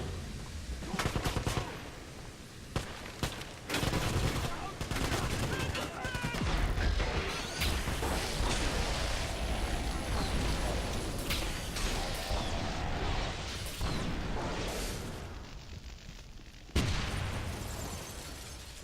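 Rapid bursts of Tesla gun fire and crashing impacts from the Wolfenstein video game, loud and dense with clustered crackling blasts, a sharp hit near the end, and a voice talking over parts of it.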